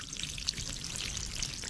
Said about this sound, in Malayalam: അപ്പൊ കുറച്ച് വെള്ളം ഊറ്റി കളയട്ട്.